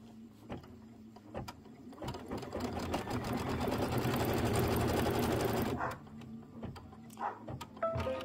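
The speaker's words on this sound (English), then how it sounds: "now it's going to go ahead and stitch along the very bottom" Sewing machine stitching along the bottom edge of autumn quilt pieces, a steady mechanical whir for several seconds, framed by scattered clicks and handling noises before and after.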